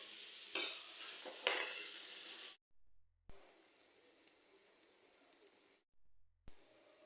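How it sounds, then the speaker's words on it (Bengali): Banana peels with salt, turmeric and chili powder fry quietly in a pan, a soft sizzle with a few sharp utensil clinks and stirring scrapes, broken by brief silent gaps, close and without talk. "কলার খোসাগুলোকে হালকা ভেজে নেব।"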